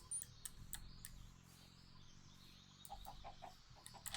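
Chickens in modded Minecraft clucking in short, repeated bursts spread across a few seconds, faint and quiet over low background sound.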